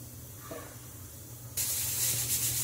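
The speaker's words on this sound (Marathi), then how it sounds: "आता मिक्सरच्या भांड्यात आपण वाटून घेऊया थोडं थोडं त्याला दाणे" A mixer grinder coarsely grinds boiled corn kernels, kicking in abruptly partway through after a quiet stretch, then a loud, steady, hissing whir that runs to the end.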